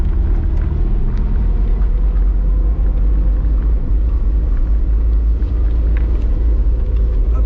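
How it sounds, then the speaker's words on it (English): Vehicle driving along a bumpy coastal road between Calabash Bay and Billys Bay in Treasure Beach, Jamaica: steady loud engine and road rumble with constant low drone and rattling texture throughout, no talk. "So we're having a bit of bumpy ride."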